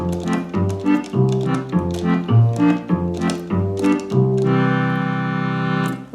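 Roland 4x digital accordion with orchestra string bass under accordion chords: short rhythmic bass-and-chord pulses alternating for several bars, then a long sustained full chord, close and loud with no voices.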